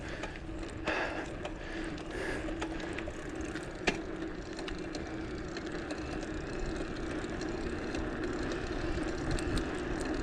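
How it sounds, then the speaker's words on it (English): A small drone hums overhead above a park trail during a mountain bike ride, its steady buzzing drone under a wash of wind and ambient noise, with a brief clicking tick partway through. "I hear some drone flying"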